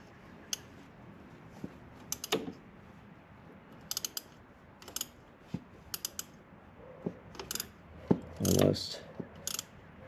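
Wrench working a bolt on a Kawasaki Ninja 400 during an oil change, short clicky ratcheting bursts spaced a second or so apart, close and fairly quiet, with a faint voice murmuring now and then.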